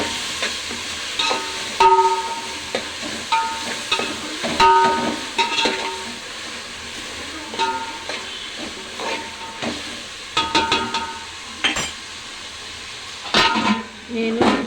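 Mint and curry leaves sizzle in a hot pan while cooking homemade chicken pulao. A steady steamy hiss is broken by clinks and scrapes of utensils and short sharp bursts of sizzling.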